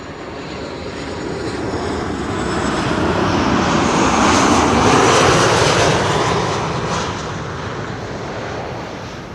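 A KLM Boeing 737 on approach to runway 06 at Schiphol, its jet roar swelling steadily to a loud peak overhead, then slowly fading, with no talking.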